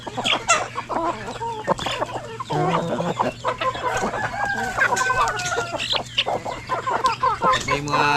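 Chickens and chicks on a farm in the Philippines cluck and cheep in a busy, overlapping chorus close by, with a steady low hum underneath and people talking in the background.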